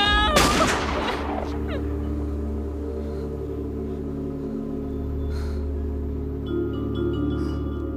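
A single loud gunshot bursts out near the start of a 1991 thriller film scene, followed by a sustained low rumbling drone and lingering tones.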